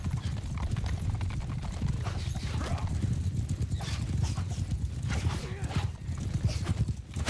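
Steady, rapid clip-clop of a horse's hooves galloping in the medieval battle game Mount & Blade II: Bannerlord, loud and continuous with occasional whinnies and a busy mix of game noise.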